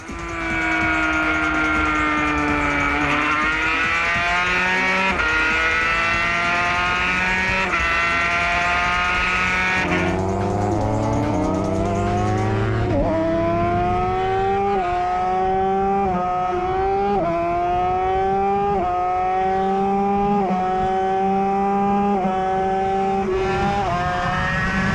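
A 160-horsepower two-stroke road motorcycle engine derived from the 500cc NSR racer screams close by, revving up through the gears in repeated rising sweeps with brief drops at each shift, loud and continuous with no talk.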